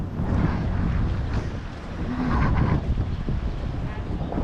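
Strong wind buffets the microphone in rising and falling gusts on Walnut Street near Rittenhouse Square, Philadelphia, a loud rushing roar with low rumbling over a brief few seconds.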